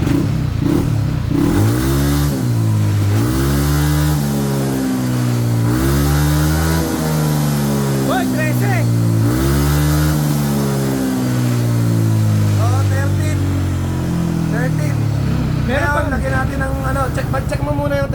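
A motorcycle on a dyno bed revs repeatedly at full throttle, loud and close, its engine note climbing and falling in long sweeping pulls, with a voice speaking briefly in between.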